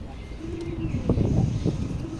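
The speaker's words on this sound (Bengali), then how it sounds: "এই যে এক জোড়া কবুতর।" A pair of pigeons on a rooftop coo softly, low rolling calls near the microphone with brief rustling bursts in the middle.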